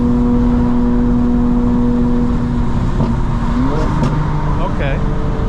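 A 900 HP 2025 BMW M4 Competition xDrive engine and exhaust hum loudly under steady load inside the car, with brief rev changes toward the end and no popping burble.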